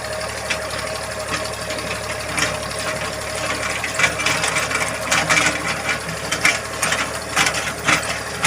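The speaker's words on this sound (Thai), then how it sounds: "ความเร็วเกียร์นี้เกียร์เกียร์สี่ของ L 2000ใกล้เคียงกับเกียร์สองของ KRT ครับ" A Kubota L2000 small tractor runs in fourth gear, its engine droning steadily under a busy clatter of gears and rattling mechanisms, close and fairly loud.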